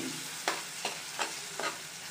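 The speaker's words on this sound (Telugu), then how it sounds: "ఇలా కొంచెం ఫ్రై చేసుకోవాలి" Tomato with chili powder fries in a pan for a broccoli tomato curry, a soft steady sizzle broken by four evenly spaced scraping strokes of a spoon stirring it.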